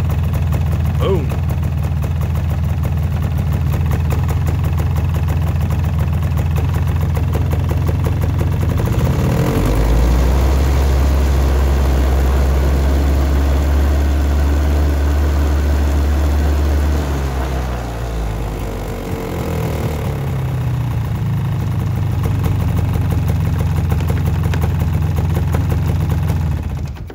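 A Polaris ATV engine cranks and starts, then settles into a steady low idle rumble. The loud, close running continues unbroken throughout.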